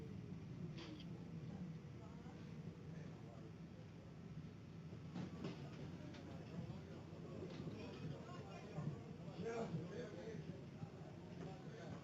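A light-rail train slows into a station with a low steady rumble and faint clicks and rattles, with people talking quietly over it.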